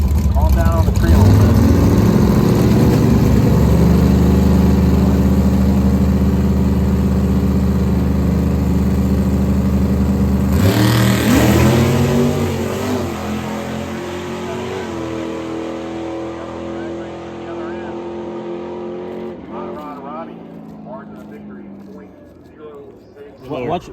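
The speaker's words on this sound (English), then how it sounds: "This is the semifinals for bracket racing tonight." Bracket-racing drag cars sit at the line during a nighttime semifinal, engines loudly idling and revving with sustained rumbling harmonics that fluctuate and slowly fade, while people talk nearby.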